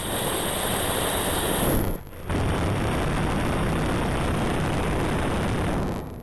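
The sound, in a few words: Gatling gun firing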